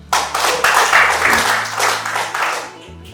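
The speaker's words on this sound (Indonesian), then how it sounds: "Tepuk tangan lagi." Guests at an open doctoral promotion ceremony in Makassar clap for the newly conferred doctor, a close, loud round of applause from a modest crowd lasting about three seconds.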